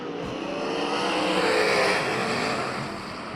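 USAC Southwest sprint cars race at Central Arizona Speedway, their engines producing a loud, continuous roar that swells as the pack passes and then eases slightly, with no talk over it.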